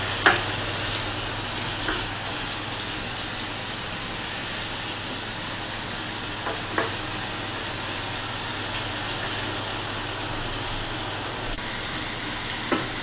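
Free-range native chicken stirred in a hot pan for tinola, a steady close sizzle with occasional scrapes of the stirring spoon, no talking.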